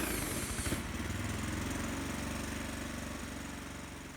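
A 212cc Predator small gasoline engine runs steadily under load on a Prony brake dyno, a loud, continuous close-up drone with a slight dip in pitch near the end.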